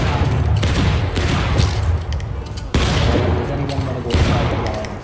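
Repeated musket volleys crack through a War of Rights battle, dense overlapping gunfire bursting in waves at close and middle distance, with a voice briefly talking under the shooting.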